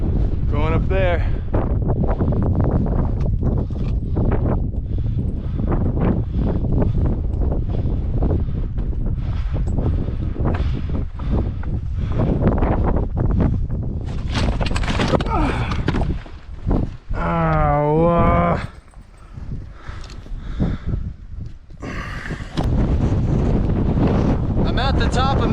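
Strong wind on the foggy summit of Mount Madison buffets the microphone in heavy, continuous gusts, with a person's voice speaking intermittently beneath the roar.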